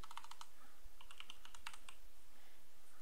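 Quick bursts of typing on a computer keyboard, clustered keystroke clicks with short pauses between runs, close and moderately loud over a low steady room hum, with no talking.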